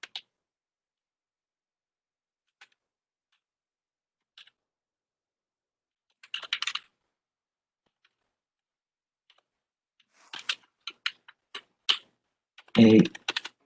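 Code being typed on a computer keyboard during a full stack web development lesson: scattered faint single key taps, then a few short bursts of clicking that end in one louder, heavier keystroke, with long quiet gaps between.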